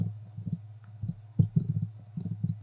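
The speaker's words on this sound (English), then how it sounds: "Type nano." Light clicks of typing on a computer keyboard, a few short irregular bursts of keystrokes, close and quiet with no talk.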